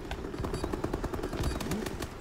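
Rapid automatic gunfire in a Call of Duty multiplayer match, a steady close burst of sharp shots rattling for about two seconds without pause.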